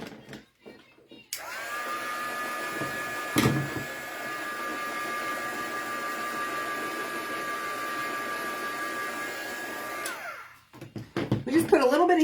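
A hot air heat tool warms glue to make it tacky, blowing as a steady loud whoosh for about nine seconds with a faint whine, then cutting off, followed by some brief handling noises.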